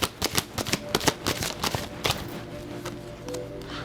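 Tarot cards being shuffled and drawn, a close run of quick riffling snaps and flicks that thins to a few softer card taps near the end.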